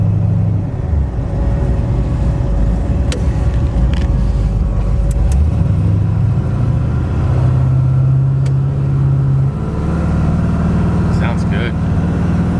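A 1960 Chevrolet Bel Air with a 406 engine runs steadily at close range, a loud low rumble with a slight shift in pitch partway through as it drives, while voices talk faintly over it.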